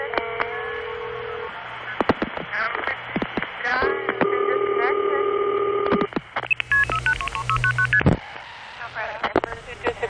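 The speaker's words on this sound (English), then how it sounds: "What number are you dialing, please?" Vintage telephone network recording with a run of DTMF tone pairs dialed in quick succession, steady hum and line tones, and a recorded operator voice speaking over part of it.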